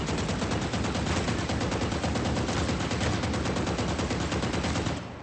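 Rapid automatic gunfire from a shooting video game, a dense continuous burst of shots sustained loudly for about five seconds before cutting off abruptly.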